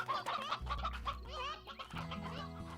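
Stony hens in the Slime Rancher video game cluck in short, bright bursts over a low, steady game-music backdrop, with several birds overlapping in quick succession.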